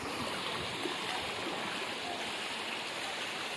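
Floodwater from Koh-e-Suleman hill torrents surges through Dera Ghazi Khan, a steady broadband roar of rushing water that stays close and loud throughout, with no voices over it.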